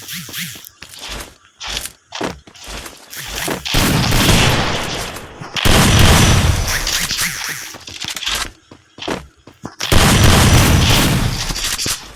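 Gunfire and explosive booms in the video game Free Fire, with loud dense bursts alternating with sharp isolated shots and short gaps, close and forceful.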